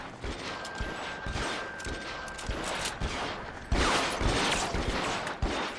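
Garand rifle gunfire in the video game L.A. Noire, a run of sharp shots spread across a dense, noisy firefight, with a louder burst near the end.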